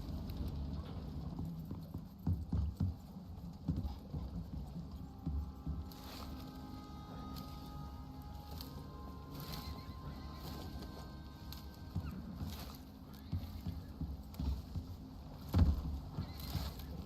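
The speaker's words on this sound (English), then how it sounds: "I hear a horse tearing things absolutely to shreds." Horse in the open-world survival game Icarus, heard as steady clip-clop hoofbeats over a low rumbling background, fairly faint and continuous with a few louder thuds.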